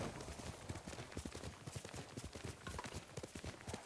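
Horse hooves clip-clop steadily at a trot in Ghost of Tsushima, a fast, even rhythm of close hoofbeats with no talk over them.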